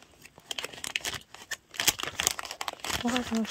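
Paper packing crinkles and rustles in irregular bursts while an acrylic stand toy from a convenience store is unpacked, close and fairly loud, with a person talking briefly near the end.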